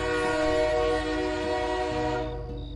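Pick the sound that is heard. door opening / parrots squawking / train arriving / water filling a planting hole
train arriving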